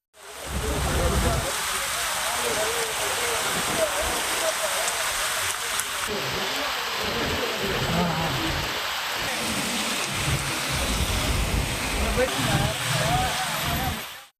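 Heavy rain pours steadily onto the roads of Rameswaram, where vehicles crawl along, giving a dense, continuous hiss of falling water with a voice faintly present beneath it.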